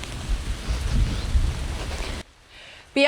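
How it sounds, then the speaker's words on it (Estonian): Steady rain pours down outdoors in a garden, a dense broadband hiss for about two seconds before cutting out abruptly to near silence, then a brief loud burst at the very end. "Ja liigume, hakkab rohkem sadama."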